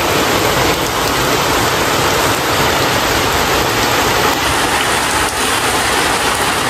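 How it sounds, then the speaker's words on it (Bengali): Heavy rain pours down steadily after a sudden clouding-over at a home, a loud, dense and unbroken hiss of downpour throughout with no voices. "জোর ঝমঝমি বৃষ্টি নেমে গেছে, দেখছো?"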